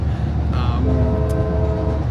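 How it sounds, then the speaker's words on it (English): Northbound Amtrak Capitol Corridor passenger train to Sacramento heard from on board, a steady low rumble of the running train with a brief distant horn-like tone partway through. "Currently on board a northbound Amtrak Capital Corridor train for Sacramento."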